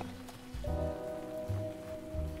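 Steady pouring rain in the video game Figment 2: Creed Valley, a constant wash of rainfall under a low sustained musical drone and soft rhythmic low thumps, with no voices.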